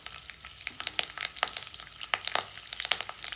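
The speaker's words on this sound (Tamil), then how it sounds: "எண்ணெய் நல்லா ஹீட் ஆனதுனால இப்போவே பொரிய ஆரம்பிச்சிருச்சு" Small shallots and a dried red chilli frying in hot oil for hotel-style tiffin sambar, a dense close crackle of popping and spattering bursts throughout, with no voices.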